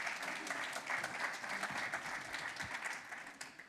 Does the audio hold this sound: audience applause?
yes